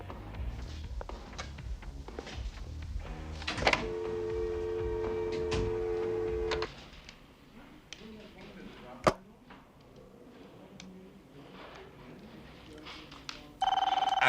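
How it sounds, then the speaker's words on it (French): Telephone ringing in a 1991 film scene, a bright electronic trill starting partway through and running for a few seconds over a low rumbling background, with a thud and another shrill tone near the end. "Le téléphone. Ah, le téléphone."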